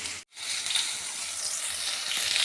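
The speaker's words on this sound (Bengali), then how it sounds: "আমি এই তেলেই সয়াবিনগুলোকে ভালো করে ভেজে নিচ্ছি" Soya chunks fry in hot oil in a home kitchen for a vegetarian soya curry, giving a steady, close, loud sizzle with a brief dropout near the start and no talk.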